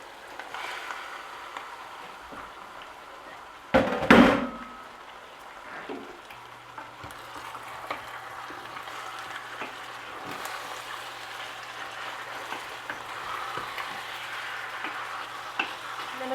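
Beef goes into a pan of onions sautéing over medium heat, landing in a loud burst of sizzle that settles into steady frying and stirring, with no talking.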